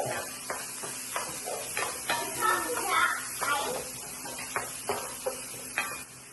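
Onions and green chillies sautéing in a hot pan, a soft sizzle broken by regular scraping strokes of a spatula, repeated about every half second.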